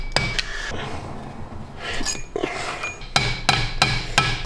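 Hammer driving a bearing installer onto a full-size axle fitted to a small Jeep Amigo, sharp metallic strikes close by, a few scattered blows then a quick run of four evenly spaced hits.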